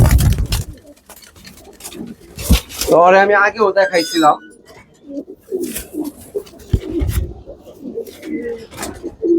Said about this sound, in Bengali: আরেকটা কবুতর দেখাই মাদি এটা